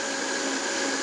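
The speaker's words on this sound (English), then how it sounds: "You're gonna start your blender on low, and then you're gonna build up the speed." A blender whirs at a steady high speed, purées chilies in a continuous loud motor drone with no voices.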